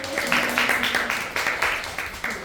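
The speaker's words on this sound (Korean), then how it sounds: "박수 한번 해주세요" A church congregation claps briefly during a Sunday worship service, a short burst of rhythmic, fairly close clapping, roughly unison beats in quick succession.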